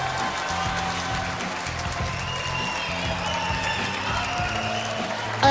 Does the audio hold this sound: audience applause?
yes